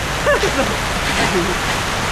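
Steady rain hisses throughout, with a voice speaking briefly near the start over the downpour.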